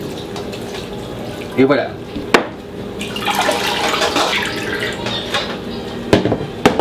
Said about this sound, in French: La choucroute égouttée comme ça, je la rince à l'eau froide.